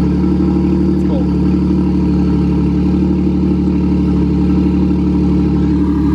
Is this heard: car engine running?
yes